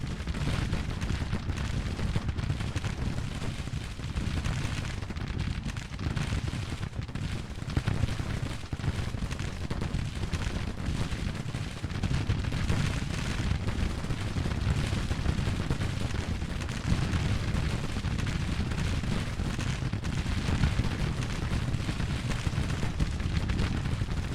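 Williams guns, Civil War-era rapid-fire cannon, open fire in Grand Tactician: The Civil War. Dense, continuous rumbling volleys of artillery and musketry roll on steadily at a constant loudness throughout, with no voices.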